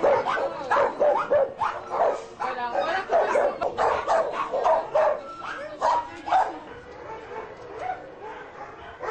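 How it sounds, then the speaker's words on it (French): Greyhounds and other dogs at a Rome dog refuge bark and yip repeatedly in a dense, overlapping chorus, with a voice talking over the barking. "Indifférents aux aboiements des autres chiens du refuge"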